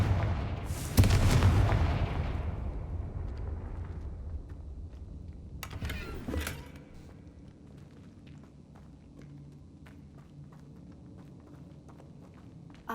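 Fire-blast spell explosions from the Confringo curse in the video game Hogwarts Legacy: a loud, booming blast at the start rolls into a long fading rumble, then a second sharper burst, followed by quieter game ambience.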